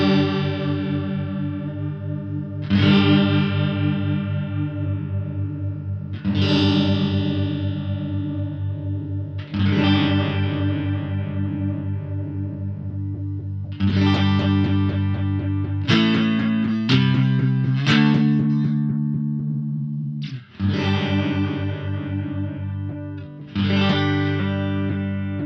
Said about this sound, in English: let's get a chorus that actually doesn't sound great, but that'll illustrate what we're doing here